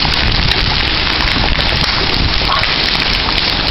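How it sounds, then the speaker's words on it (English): Hailstorm with hailstones pelting down in a dense, constant loud clatter and hiss on surfaces, close and unbroken throughout. "These are the size of hailstones,"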